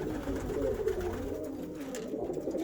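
Pigeons coo in a pigeon loft, soft throaty rolling calls close by that repeat and overlap over a steady low background.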